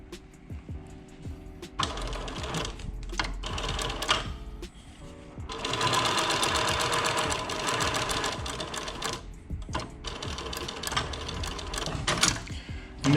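A tabletop sewing machine stitches leather panels for a custom Air Jordan 1 shoe, running in bursts of rapid mechanical chatter with short pauses between runs, close and steady with no talk over it.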